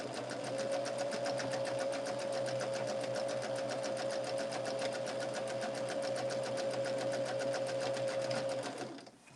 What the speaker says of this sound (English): we're going to sew a 1/4 inch